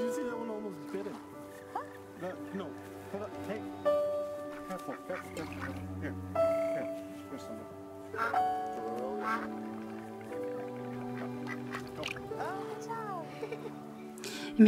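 Ducks quack repeatedly in the video game That Dragon, Cancer, moderate calls scattered over a soft musical background, with someone talking throughout.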